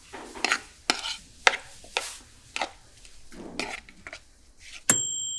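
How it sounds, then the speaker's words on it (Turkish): Salad tossed in a bowl, with a string of distinct scraping, clattering strokes about every half second, close and fairly loud, ending in a sharp clink. "Salatayı karıştırın."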